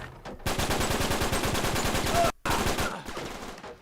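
Machine gun fire in the Uncharted 3 video game: a long, loud, rapid burst that cuts off briefly, then trails into fainter shots, with no one talking.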